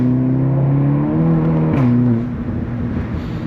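Volkswagen Golf GTI TCR with a manual gearbox accelerating hard on an open road, a steady loud engine drone rising in pitch, with a brief shift-like dip midway before the engine note settles back.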